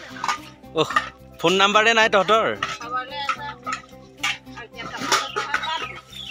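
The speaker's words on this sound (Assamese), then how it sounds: "কেৰাহী ধুই আছচোন" A kadai being washed, with clattering metal scraping and clinking of the pan, under lively overlapping talk and a voice calling out.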